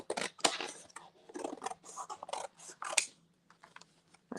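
Scissors snip a Rolodex index card into shape for gel printing, a quick series of crisp, close cutting strokes in an uneven rhythm in a quiet room.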